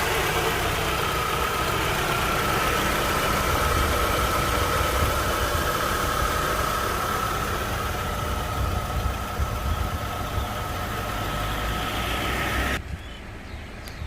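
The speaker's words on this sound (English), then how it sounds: "I've also started the engine and taking the engine sound for you guys to understand." Steady, close idling of a 2010 Chevrolet Aveo 1.4 LT engine, a constant hum and vibration throughout, cutting off abruptly at the very end.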